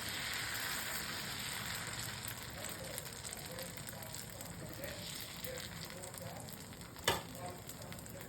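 Oil sizzling in a pan while making dosa from whole mung dal and rice batter, a steady soft hiss and crackle throughout with one brief clack near the end, a voice faintly present.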